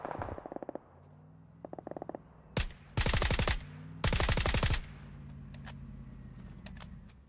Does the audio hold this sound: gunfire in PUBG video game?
yes